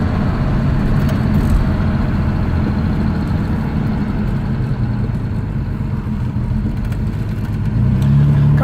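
A 1960 Jaguar car driving on a city road, its engine a steady low rumble that swells slightly as it picks up speed near the end, heard from inside the cabin with no talking.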